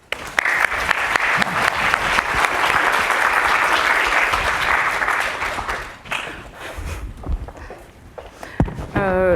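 Lecture-hall audience applauding to welcome a speaker for a talk on ancient Achaean League coinage; dense steady clapping for about six seconds, then fading into scattered claps, shuffling and movement.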